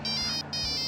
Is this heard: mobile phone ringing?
yes